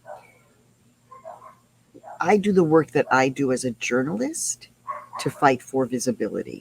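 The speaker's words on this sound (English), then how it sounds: "So sorry about the dogs barking." Dogs bark outside an indoor-outdoor house, faint yips early on before a person speaks steadily over them, with a few barks mixed into the talk.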